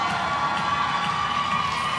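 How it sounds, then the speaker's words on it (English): A weightlifting world championships arena crowd cheers steadily and loudly, a dense continuous roar of shouts and whoops filling the space without pause as a lifter is announced. "We've got a lot of cheering"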